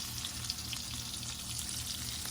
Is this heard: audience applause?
no